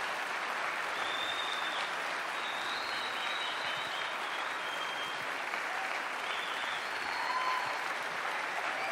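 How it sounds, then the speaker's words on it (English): Sustained round of applause from a large evening audience welcoming a guest speaker to the stage, dense and steady throughout with a slight swell near the end, no voices over it. "Please, will you give him a really great round of applause."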